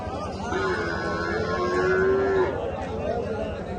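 A water buffalo at the Dhanaula cattle market in Punjab gives one long, drawn-out low lasting about two seconds, close by, over a busy background of crowd chatter and people talking.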